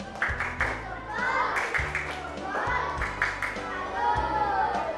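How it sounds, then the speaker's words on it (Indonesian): A primary school classroom gives a rhythmic round of applause for a group that presented a butterfly life cycle; children clap in a patterned cheer of repeated beats, with young voices mixed in. "Kita beri tepuk salut."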